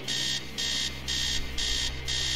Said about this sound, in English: Upstairs, sound of alarm clock blaring.